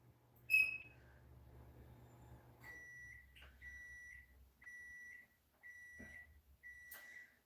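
A series of short electronic beeps, about five in a steady rhythm, sounding clearly and close, after an earlier higher chirp over a low hum.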